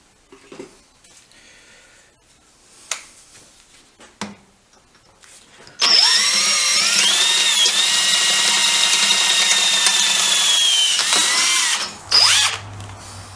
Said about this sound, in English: now we're ready to drill a 3/8 hole here, which is the size for a 1/4 inch grommet